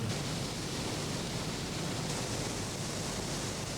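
Triberg's mountain waterfalls in the Black Forest, a steady broadband rush of falling water, constant and even with no breaks, heard alone.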